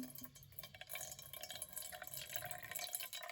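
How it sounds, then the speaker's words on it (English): Muddy water trickles and drips through a homemade filter into a container, a continuous faint splashing and dribbling with no voices. "Now we can actually filter our water."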